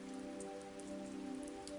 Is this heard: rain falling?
yes